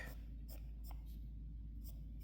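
Pencil sketching a figure's neck on paper, with a few short scratchy strokes in quick bursts, close and faint over a steady low hum.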